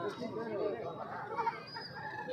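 Chickens clucking at a busy Sunday poultry market with country hens and fighting roosters for sale, a dense crowd of fowl calls with people talking over it throughout.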